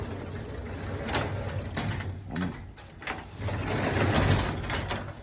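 A 22-year-old garage door moving on a bad pulley, grinding and rumbling mechanically with scraping and clunking bursts as it travels and sticks, close and continuous with no voices.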